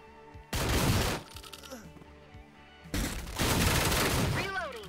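Shotgun blasts and gunfire in the video game Door Kickers: Action Squad, two loud dense bursts of shooting separated by a quieter gap, with game sounds between and voices talking.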